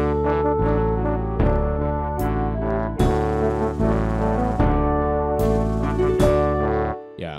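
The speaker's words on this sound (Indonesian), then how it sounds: "Kayak ada bunyi snare yang dipukul cercek-cercek, seperti kayak gitu." Church organ rhythm pattern in a marching style with a snare-drum-like beat under sustained chords, loud and continuous for several seconds with no voices, fading out at the end.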